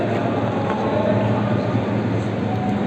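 A metro train passes Mina station number 2 near the Hajj tent city in Mina, heard as a steady, loud, broadband rumble and roar that continues without a break.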